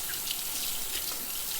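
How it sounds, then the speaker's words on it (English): Steady water streaming from a kitchen tap as hands are rinsed during gnudi preparation, a continuous broadband splashing hiss at moderate level with no speech. "So I'm just going to rinse off my hands here really"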